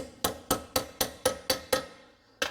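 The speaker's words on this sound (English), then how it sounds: "I'm gonna tap this side in as well." A hammer taps a universal-joint bearing cap into its yoke with seven sharp, evenly spaced metallic strikes, a short pause, then two more quick hits, close and clear with no talk.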